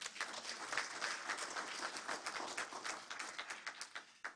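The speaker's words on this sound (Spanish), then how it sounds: "Yo le voy a pedir un aplauso para Juan" Quiet, distant applause from a church congregation honoring Juan during a Spanish-language gospel reading, a soft wash of many hands clapping throughout.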